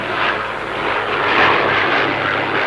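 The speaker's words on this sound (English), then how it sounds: "Tintin heard a motor. It was a plane." Steady propeller plane engine drone from a 1939 Tintin cartoon, The Crab with the Golden Claws, holding at a constant loud level with a slight swell midway and no talk over it.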